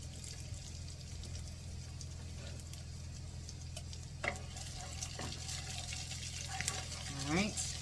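Garlic goes into a hot pan and sizzles in a constant close hiss, broken by a few light taps and scrapes of a utensil, with a voice speaking at times.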